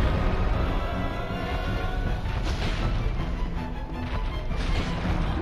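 Explosion from the Demon Ruins boss fight in Dark Souls Remastered, a dense continuous roar of rumbling, crashing game noise filling the whole stretch at steady loudness with no clear pauses.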